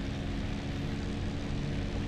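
A propeller warbird's engine drones steadily in flight in DCS World, a loud, even low hum with a constant tonal note that never lets up, no other sounds breaking through.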